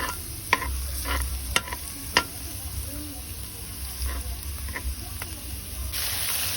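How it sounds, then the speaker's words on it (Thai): Garlic stir-frying in oil in a home kitchen, a steady sizzle with a spatula scraping the pan in several sharp strokes, fairly close and continuous, with no one speaking. "โดยเอากระเทียมผัดกับน้ำมันให้หอมก่อนนะคะ"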